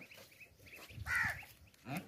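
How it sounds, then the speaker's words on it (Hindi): Ducks offered for sale at an outdoor goat market give a few short nasal quacks, one louder call standing out near the middle, over low crowd murmur. "और ये बतखें भी फार सेल है"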